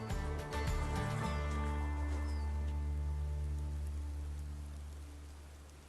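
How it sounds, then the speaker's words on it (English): Light summer rain patters on a garden, a soft steady hiss that slowly fades over six seconds, with a few brief knocks at the start. "we've had wind, and now we've got rain"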